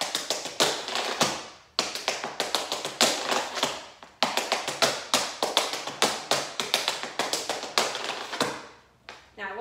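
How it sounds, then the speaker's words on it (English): Tap shoes strike a floor in fast, crisp paradiddle patterns during a beginner/intermediate tap dance routine, a steady stream of close, sharp taps broken by brief pauses and no talking. "you kind of have to like loosen and kind of sit into those paradiddles"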